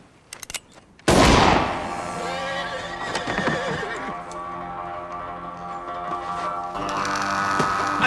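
Western-film horse lets out a long, loud whinny right after a few sharp clicks, then a sustained wavering neigh carries over busy scene noise with hoofbeat-like clatter near the end.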